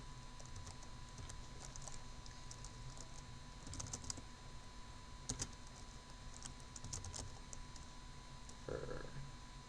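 Code being typed on a computer keyboard for a PHP project: quiet, close key taps in uneven bursts with brief pauses and a few louder clacks, against a faint steady hum and no speech.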